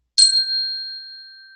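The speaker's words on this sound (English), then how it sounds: "You can also use a type of chimes like this where you can hit them." A single metal chime used in a sound therapy session is struck once, giving a bright clear ding that rings on with a pure sustained tone and slowly fades, alone in silence.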